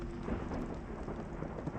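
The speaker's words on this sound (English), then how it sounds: "Nobody takes chances with a thunderstorm out on the range." Thunderstorm out on an open range, with steady rain hissing across the ground and low rumbling thunder rolling underneath, a continuous dense wash of sound at moderate distance.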